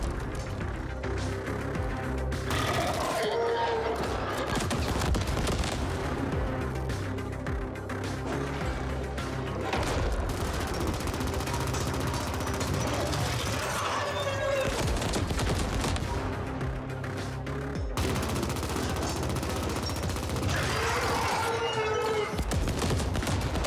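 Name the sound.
automatic rifle fire in the video game The Ascent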